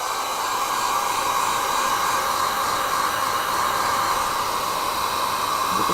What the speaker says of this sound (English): I'm going to dry it, so excuse the dryer.